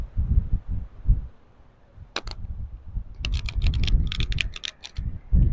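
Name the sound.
shuffling cards old school style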